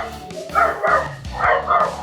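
Dog barking close by, a run of about four or five loud, rough barks in quick succession.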